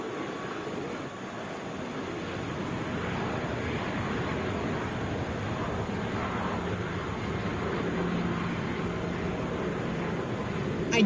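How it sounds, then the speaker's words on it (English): A Southwest Airlines Boeing 737 MAX 8 airliner departs Atlanta International Airport, its engines a steady broadband roar that swells slowly and holds at a moderate distance, with wind buffeting the microphone throughout. "This is Southwest 3040 headed to Austin on a Boeing 737 MAX 8"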